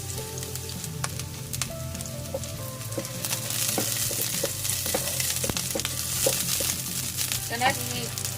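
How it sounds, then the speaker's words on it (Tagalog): Onion frying in a pan, a steady crackling sizzle with occasional stirring clatter, close and fairly loud, while someone talks over it at times. "Hintayin lang muna natin yan maluto yung onion guys."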